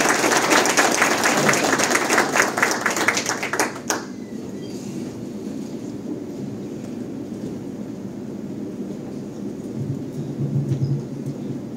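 An audience at a university philosophy event in Santo Domingo gives a warm round of clapping for Dr. Edison Minaya. The dense applause lasts about four seconds, then breaks off into a quiet room hum.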